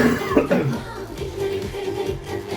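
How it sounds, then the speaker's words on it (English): A person who has been sick coughs several times in quick rough bursts, close and fairly loud, with a little throat noise between the coughs. "I'm sorry I'm coughing"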